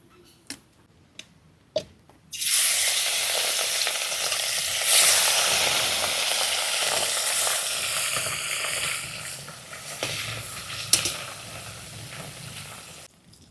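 A few sharp clicks, then a loud, steady sizzle of tengra fish coated in salt and turmeric frying in hot mustard oil in a kadai, continuing with small crackles and pops.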